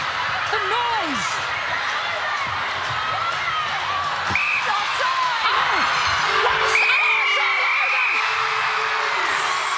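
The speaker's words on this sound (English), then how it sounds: "The crowd has gone mad." A packed netball crowd roars through the tense finish of New Zealand versus Jamaica at the 2018 Fast5 Netball World Series, loud continuous noise pierced by shrill whoops, whistles and a sustained horn-like tone.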